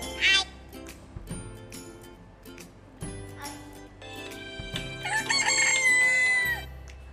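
A chicken rooster's crowing plays as the answer in an animal guessing game, heard alone with no talk, mixed with other animal calls including a short cat-like meow early on and a loud drawn-out crow near the end.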